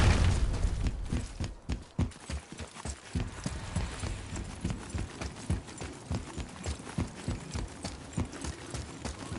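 Horse hooves clip-clop steadily in the video game God of War, a close, regular rhythmic clatter that follows a few deep booms at the start.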